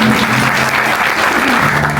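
A crowd at a book launch event claps loudly for Arun sir, a thick, continuous burst of close applause with a faint low hum or murmur underneath.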